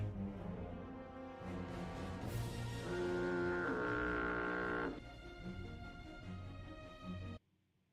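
A foghorn blast like a cartoon boat honk, one sustained deep horn tone with a louder middle section, ending abruptly into near silence, heard alone without speech.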